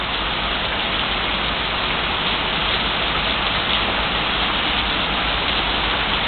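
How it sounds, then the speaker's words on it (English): Steady, heavy rain from a storm pours down without pause, a dense close wash of falling water with no voices and no breaks. "Rain, rain, rain."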